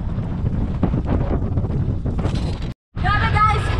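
Strong wind buffets the microphone on a road at Mesaieed, Qatar, a loud continuous roar with broadband gusting that cuts out briefly near the end before resuming.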